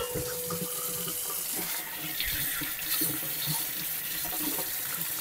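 Tap water running over freshly picked zucchini being gently washed in a sink; a steady splashing stream with irregular sloshes and patters as the vegetables move under it, close and continuous, with no talking.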